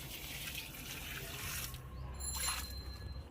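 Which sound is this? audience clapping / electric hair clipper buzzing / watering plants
watering plants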